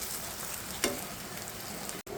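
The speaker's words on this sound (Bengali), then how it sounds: "সবগুলো খুব সুন্দর করে উল্টে দিলাম। এই পাশটা ভাজা হইলে তুলে নেব।" Pumpkin flower fritters made with rice flour batter fry in oil, giving a soft, even sizzle with one brief scrape partway through and a short dropout near the end, heard alone at close range.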